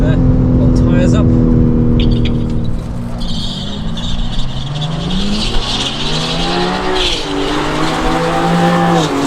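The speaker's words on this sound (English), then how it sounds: "Lot of wheel spin, but that should have warmed the old tyres up." A BMW G80 M3 Competition spins its wheels at a drag strip on cold tyres, with a loud engine note rising and falling and tyre squeal close by, while people talk over it.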